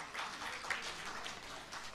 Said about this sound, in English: give her, please, big round of applause